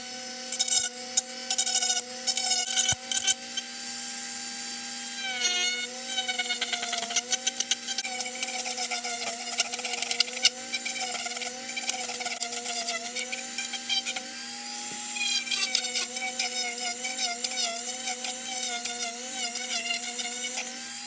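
Helmet edge being cut and smoothed into a bevel with a tool, producing a continuous high-pitched whine with a wavering pitch and gritty rubbing, loud and close, with no talk.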